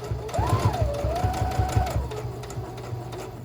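Sewing machine stitching through a quilt block of fabric and batting, a close, steady rapid whirring hum with fast needle thumps, running continuously throughout.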